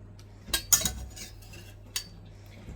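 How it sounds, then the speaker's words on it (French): Dishes and cutlery clink and clatter in a home kitchen while peas and lardons are prepared, a few sharp close metallic knocks and scrapes over a low steady hum, with no talking. "vous avez même le bruitement de la vaisselle"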